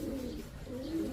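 A pigeon cooing close by, two soft, low, rolling coos separated by a brief pause, against quiet background noise.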